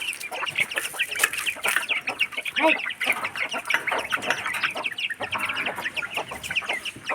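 Several Indian country (naati) chickens cluck and chatter continuously nearby, their short overlapping calls forming a busy, uneven patter with no talking.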